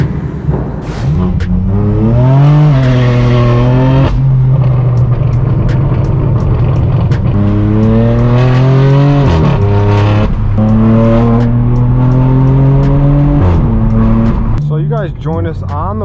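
Straight-piped BMW M4 F82 exhaust roaring loudly from inside the car while driving on city streets, rising and falling through repeated revs and gear changes, constant and close throughout.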